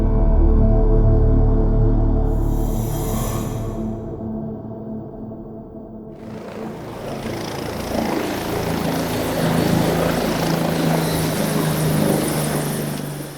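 A helicopter's rotor blades thump steadily, loud and nearby, with a brief quieter dip before the chopping swells again into a broad roar.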